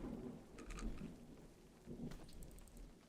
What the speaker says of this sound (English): It just feels quite nice just to listen to the raindrops like this